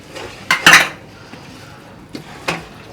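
A spoon stirs spice powders, among them garam masala, chili and coriander, into chicken curry in a pan: a few sharp metallic scrapes and clinks, one loud cluster early, then two lighter knocks.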